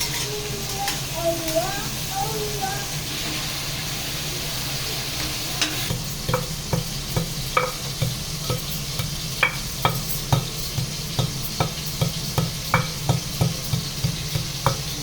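Tomatoes sizzling in a pan for tomato chutney, a steady frying hiss overlaid with regular scraping stirs from a spoon that quicken into a steady rhythm, close and moderately loud.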